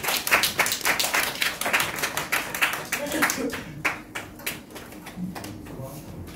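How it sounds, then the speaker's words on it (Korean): A church congregation at a Sunday service claps to welcome a pastor to the pulpit, a brisk run of fairly close handclaps that thins out toward the end. "우리 박수로 환영하도록 하겠습니다."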